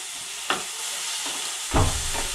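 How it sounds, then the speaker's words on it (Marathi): Tomatoes tip into a pan of softened, reddened onions with a bit of coriander, giving a soft splash and stirring scrape, then a louder sizzling burst as they hit the hot oil. "आता टोमॅटो टाकून घेते।"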